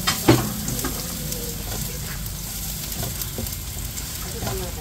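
Ginger and garlic sauté in hot oil for chicken feet adobo, giving a steady, close sizzle with a brief clatter right at the start.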